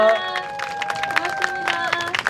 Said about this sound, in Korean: 오늘 멋진 무대 보여주신 두 분께 다시 한번 박수 부탁드리겠습니다.